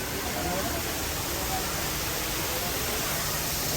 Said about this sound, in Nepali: कस्तो पानी झरेको हेर